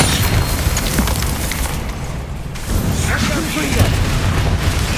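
Magical explosions from the Confringo and Bombarda spells in Hogwarts Legacy, deep booming blasts with a short quieter gap midway, continuous rumbling through the clip, mixed with a voice.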